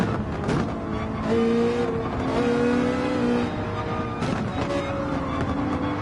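A tight pack of race cars, including a black Corvette, roars through the Gran Turismo 7 racing game, with engines droning and shifting pitch continuously, loud and close, occasional tire noise mixed in.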